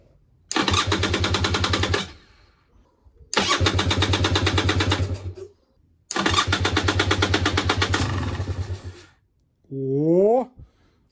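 An outboard boat motor being started for the first time in half a year on a weak battery: three long loud cranking bursts with pauses between, then a short rising whine as the engine briefly catches.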